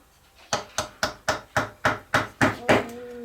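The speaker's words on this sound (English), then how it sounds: "Do you want me to hammer this in?" A hammer drives a nail into wood in a home workshop. Eight sharp, evenly spaced strikes sound close and loud, and the last blow rings slightly.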